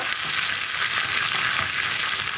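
Onion, dried red chillies and curry leaves fry in a pan over a high flame while being stirred, giving a steady, close sizzle that runs without a break.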